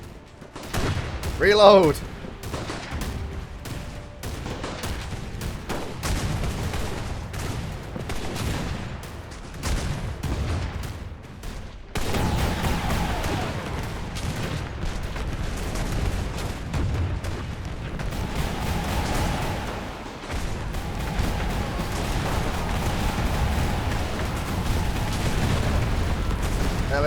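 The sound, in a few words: airship weapons firing in video game Airships: Conquer the Skies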